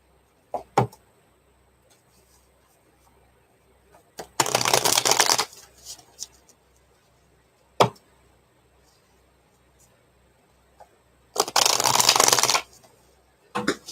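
A deck of tarot cards is shuffled in two loud, close riffling bursts, separated by quiet stretches with sharp taps and knocks as the cards are squared and set down.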